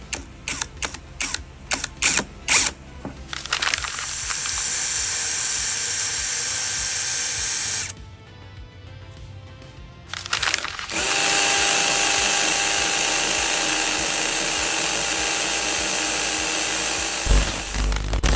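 A Wadfow 20V 52Nm cordless impact drill fires off several short trigger bursts, then runs in two long, loud whirring stretches with a brief lull between, close up and with no talk.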